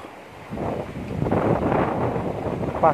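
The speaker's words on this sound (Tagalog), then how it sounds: "Lakas na ng hangin guys, may bagyo kasi." Strong typhoon wind buffets the microphone in a steady, loud rumbling roar that swells after a quieter start, with a faint voice near the end.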